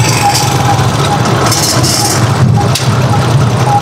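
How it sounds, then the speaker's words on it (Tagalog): The engine of a Rusi Chariot 175 tricycle runs steadily nearby, a low rumbling drone with rattly texture throughout. "So ito kasi malakas yung makina niya."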